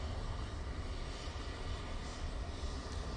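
A Boeing 737 MAX 8 airliner departing Manchester Airport bound for Tenerife, a steady broad jet roar held at a constant level, distant and unchanging, with no voices.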